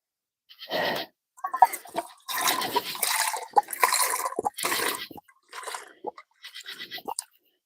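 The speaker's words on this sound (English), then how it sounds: "Let me go ahead and rinse it out." Water sloshing and splashing inside a narrow water container being rinsed out on a backpacking trip, coming in several short close bursts with brief pauses between.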